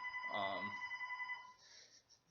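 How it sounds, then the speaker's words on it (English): A house telephone rings faintly in another room, its bell trilling in the background for a couple of seconds before fading out, with a little low room noise and no clear talk. "telephone's ringing at my house"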